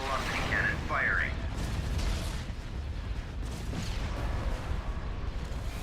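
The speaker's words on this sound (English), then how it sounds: "Hypervelocity cannon firing." Hypervelocity cannon fire in the Star Wars strategy mod Thrawn's Revenge, a dense, sustained rumbling roar of distant heavy shots. A short synthetic chirping tone sounds near the start.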